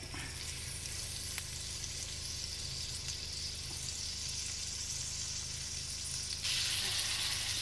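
Chicken searing in a hot pan gives a steady, close hiss of sizzling fat that swells a little louder near the end, with no voices.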